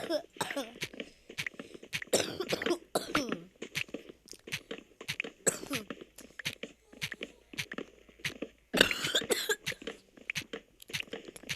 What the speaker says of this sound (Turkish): biraz öksürebilirim kusura bakmayın